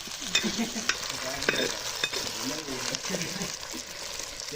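Dried red chillies and small shallots crackle and sizzle in hot oil in a pan while being stirred, a busy close hiss with sharp pops and spatula scrapes throughout.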